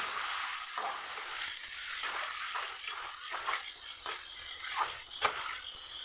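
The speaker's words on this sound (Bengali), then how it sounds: "মাংসটাকে আমি খুব সুন্দর করে ভেজে নেব একদম খুব সুন্দর করে কষিয়ে নেব" Chicken pieces fry in a pan with a soft, continuous sizzle and occasional stirring scrapes, heard quietly and without voices.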